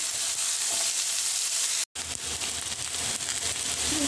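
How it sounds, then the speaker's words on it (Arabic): Onions and tomatoes fry in a couple of spoonfuls of oil in a pan, giving a steady, close sizzle that runs throughout, broken by a very brief dropout near the middle. "حطيت معلقتين زيت وادبل البصل. تدبل البصل انزل بالطماطم"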